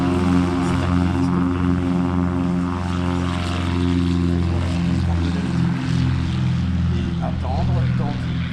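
A propeller aircraft lines up on the runway at the La Ferté-Alais airshow, its engine droning steadily and loudly throughout, a low rumbling hum with faint fluctuations and crowd ambience.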